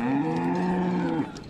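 Cattle low loudly and close by at a rural livestock market in Beni Meskine, Morocco, one sustained harmonic moo filling the short moment with no talk over it.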